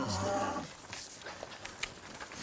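Cattle, cows and calves, low drawn-out moo at the start, then quieter scattered calls and farm noise at a livestock pen in New Caledonia.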